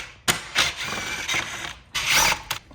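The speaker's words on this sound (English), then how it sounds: "we're gonna remove all these screws around the back side of the grill" Screws are backed out from the rear side of a truck grill during a TRD grill install, with short bursts of tool whirring and mechanical rattling separated by brief pauses.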